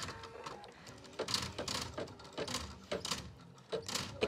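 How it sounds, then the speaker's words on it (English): A sewing machine with a ribbon embellishment attachment clicks and whirs in quiet, rhythmic bursts, its gears ticking in short repeated cycles close by, with no talk over it. "it does make a different sound, but that's just the movement of the tool, getting the ribbon in the right spot"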